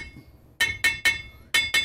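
A ball peen hammer strikes a car's brake caliper bracket in five sharp metallic taps after a brief quiet start, ringing and close, three quick hits then a short pause before two more.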